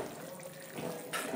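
Water pours into an egg curry gravy in a pan, a soft steady trickle close up that swells briefly near the end, with no talking.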